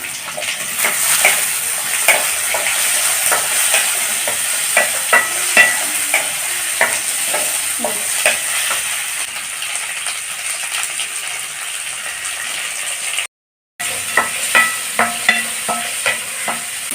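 Chopped onions and tomatoes frying in a pan while being stirred, a loud continuous close sizzle with frequent scraping and clinking of a spoon against the pan, no voices.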